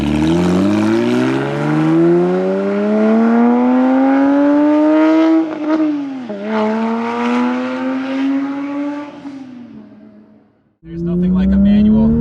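A manual Porsche GT3 with a 9,000 RPM engine pulls hard, its loud, close engine note climbing steadily through a long run, then dipping briefly at a shift before rising again. A short gap near the end is followed by another surge.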